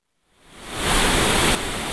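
Heavy rain outside during a flood, swelling from near silence into a loud, dense broadband roar that holds steady to the end with no voices.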